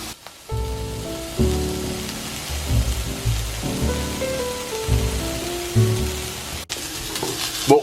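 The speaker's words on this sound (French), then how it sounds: "On va passer maintenant à la cuisson du steak" Onglet beef steak searing in a hot pan, a steady close sizzle that swells as the meat goes in, under tonal music, ending with a brief clatter.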